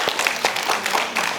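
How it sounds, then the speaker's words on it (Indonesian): A gathering at a religious study session claps together in a short burst of irregular, fairly close hand claps that fill the room. No speech is heard over it. "Tepuk tangan."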